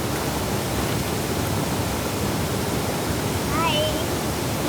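A waterfall on a hiking trail near Dhampus roars as a dense, constant rush of water close by, with a brief bird chirp rising over it near the end.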